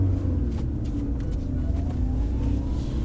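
A car with a manual gearbox and a touchy gas pedal gives off a low, continuous engine rumble with slight rises in revs. It stays close and steady throughout, and no one speaks.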